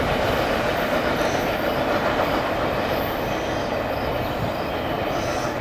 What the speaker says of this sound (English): intermodal train, single, double stack, domestic, 53 footers